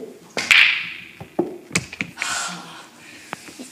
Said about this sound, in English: watch and learn as this ball will enter the hole